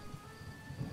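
Rain patters steadily under low thunder rumbles in Starbound, a brief stormy ambience with no voices.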